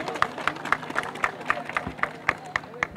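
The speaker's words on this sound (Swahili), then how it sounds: "Tujipigie makofi mengi sana." A crowd celebrating after an 8 km run claps in a fast, steady rhythm of sharp, evenly spaced beats, with a murmur of voices and crowd noise underneath.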